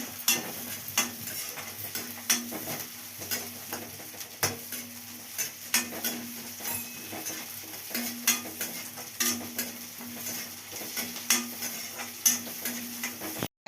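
Spices frying in oil for tamarind rice make a faint steady sizzle, broken by regular sharp clicks and scrapes of a spoon against the pan, close and quiet, with no voices.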